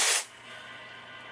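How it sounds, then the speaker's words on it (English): A single short hissing burst from a spray can, used during restoration of an RCA 630TS television set, close and sharp, then quiet. "Almost out of the free spray, but I think I got enough to do one more spurt."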